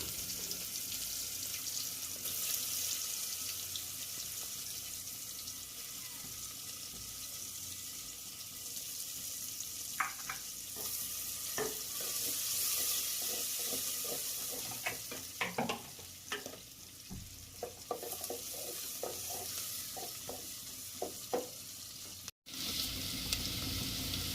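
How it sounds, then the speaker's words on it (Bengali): Onions browning in hot oil in a pot for a Bengali-style chicken kosha, with a continuous close sizzle broken up by clattering stirring scrapes and knocks in the middle stretch. "তেলটা গরম হয়ে গেলে পেঁয়াজ দিয়ে ব্রাউন করে নিতে হবে পেঁয়াজগুলো।"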